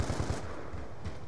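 Call of Duty gunfire rattles out as a quick, faint automatic burst of a few shots, set against steady game background noise.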